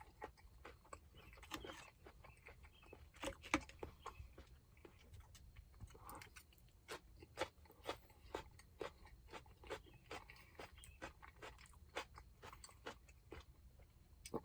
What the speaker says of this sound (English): I don't know if you can hear it crunch when I'm cutting it, but it sounds just like a regular piece of beef